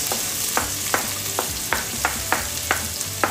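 Ginger and onion sautéing in a pan for pork belly adobo: a steady close sizzle with regular stirring scrapes, about eight strokes in a slow even rhythm, no voices.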